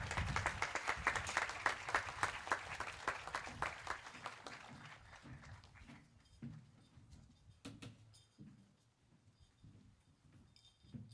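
Audience applause at a high school graduation ceremony for the Class of 2025, a dense crowd of clapping hands that thins after several seconds into scattered, sparser claps.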